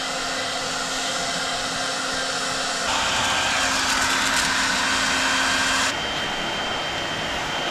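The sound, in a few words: hairdryer blowing to remove old window tint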